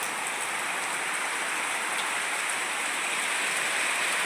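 Heavy rain falls steadily on a village home in Gujarat, a dense, even hiss of drops that stays constant and loud throughout without any voices.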